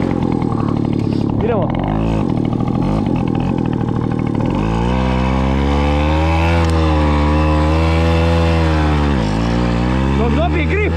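A Tomos moped engine starts on snow and revs hard, a loud, close, buzzing two-stroke drone that rises and falls in pitch over several seconds, with someone speaking briefly over it.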